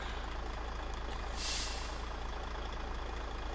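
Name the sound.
modded truck diesel engine in video game SnowRunner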